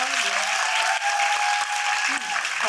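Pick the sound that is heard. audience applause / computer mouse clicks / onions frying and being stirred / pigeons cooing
audience applause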